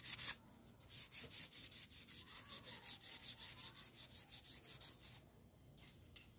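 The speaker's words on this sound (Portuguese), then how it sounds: "Cabo das duas lixado." Wooden handles of two carbon steel knives being sanded by hand, a steady series of about twenty rhythmic back-and-forth rubbing strokes, close and fairly quiet with no talk.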